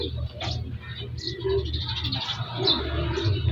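Racing pigeons in an inbred breeding pair coo in low, steady murmurs from a loft, with soft bird calls overlapping throughout under faint background noise.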